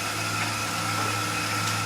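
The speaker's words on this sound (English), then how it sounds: "So now we're turning good speed there." An Axminster woodturning lathe spinning at around 2000 rpm gives a steady, continuous whir and hum with no breaks, moderately loud and close, with no talk over it.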